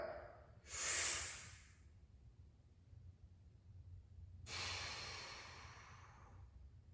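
Two slow, deep exhalations are released during a stretching exercise, each a soft breathy rush about three seconds apart, quiet and close with nothing else around them.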